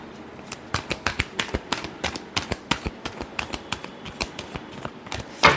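Tarot cards being shuffled by hand, giving a close, steady run of crisp snapping riffles at roughly two per second and ending in a louder final flurry, with no talking.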